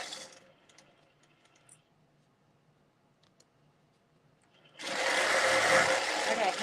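A sewing machine stitches thread painting onto fabric panels, starting abruptly after quiet, faint clicks and handling, then running loud and steady to the end.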